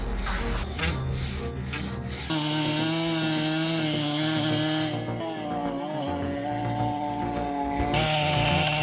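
A big chainsaw cutting through trees: a loud, steady motor whine with tonal harmonics that shifts pitch as the chain bites into the wood, running continuously and close up with no talking.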